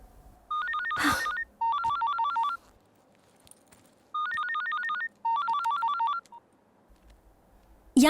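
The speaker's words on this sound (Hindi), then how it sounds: "sorry, my phone is ringing" A phone rings in short electronic bursts, four trilling pulses in two pairs, with a brief clatter between and quiet gaps otherwise.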